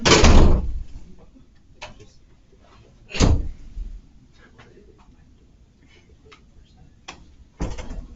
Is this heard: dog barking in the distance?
no